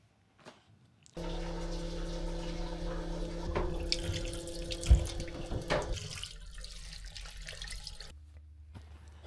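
A tap runs steadily into a sink aboard the K23 Beijing to Ulaanbaatar sleeper train while someone washes up, a close, continuous rush with a few clinks before it stops, and a low hum of the train underneath.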